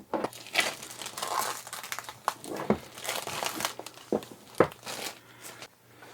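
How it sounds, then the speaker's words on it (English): Packaging of a 7RYMS iRAY DW30 lavalier microphone system being unwrapped, with close, continuous crinkling and rustling of plastic and paper, broken by a few sharper crackles and thumps. "now let's unwrap this device."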